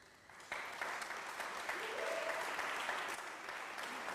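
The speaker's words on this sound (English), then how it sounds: "give them a round of applause" An audience at a voice competition opening ceremony breaks into applause, a steady patter of many hands that starts abruptly and carries on evenly.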